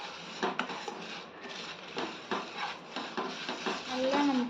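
Curry leaves roasting in a pan with asafoetida and salt: a dry rustling crackle with repeated scraping and clinking of a ladle against the pan, near and steady throughout.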